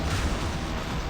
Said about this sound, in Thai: ปืนยิงลูกระเบิดก็ใช้ได้นะครับ